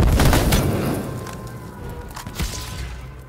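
Sniper gunfire in the battle royale game H1Z1 comes as a burst of sharp booming shots up front, followed by a fading rumble and one more faint crack.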